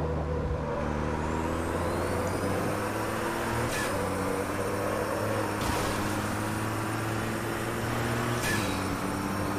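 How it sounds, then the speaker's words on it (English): An Australian Super Truck in Automobilista, a racing game, gives off a steady loud engine drone with stepped gear changes. Three short bursts of braking or air release break through over the run. "I'm braking way too early in there"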